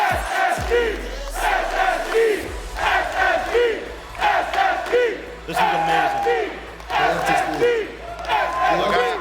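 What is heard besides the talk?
loud crowd cheering at Rocket League esports championship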